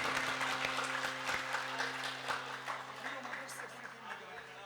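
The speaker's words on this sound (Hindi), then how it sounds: "तालियां बजाओ जबरदस्त" Audience applause rolls steadily throughout a religious discourse, a dense wash of clapping with a voice speaking over it and faint music beneath.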